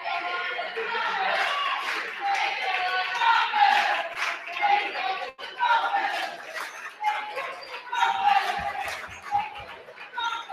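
A crowd fills a high-school basketball gym before tip-off, Waldron against Daleville, a steady murmur of chatter with occasional shouts, and an announcer talking over it.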